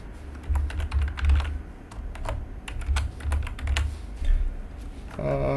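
Rapid, uneven keystrokes on a computer keyboard clatter up close through most of the stretch, with short pauses between bursts and no talk.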